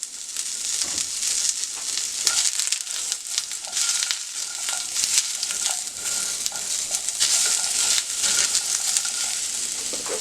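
Onions sautéing in olive oil in a pan, a steady bright sizzle and crackle that continues throughout with occasional stirring scrapes and no talking.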